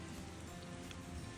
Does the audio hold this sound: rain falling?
yes